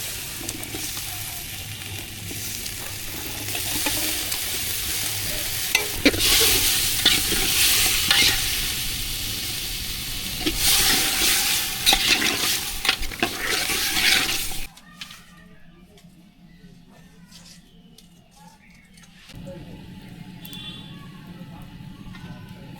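Vegetables fry with spices for a village-style khichuri, hissing loudly while a spoon scrapes and stirs through them in bursts. Midway the sizzle cuts off, leaving quieter handling and clatter.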